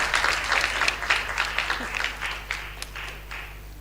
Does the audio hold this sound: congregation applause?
yes